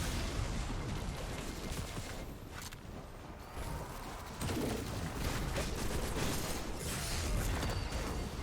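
Wither Horde grenade launcher fired in Destiny 2 during a lost sector fight against a Wyvern, a dense stretch of game combat with booming shots, mechanical clatter and impacts layered throughout.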